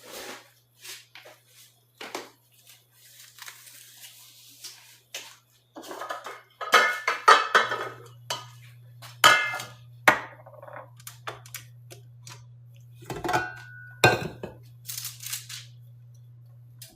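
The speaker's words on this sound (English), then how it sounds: "The rest of the way, we'll stir it." A spoon or spatula stirs lemon pound cake batter in a bowl, giving soft scraping and intermittent clinks against the bowl with quiet pauses, under a low steady hum.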